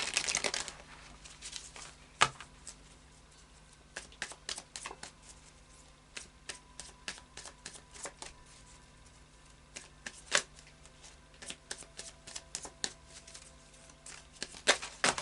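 Tarot cards are shuffled by hand, a string of quiet, close riffling flicks and snaps at irregular intervals, with no talk.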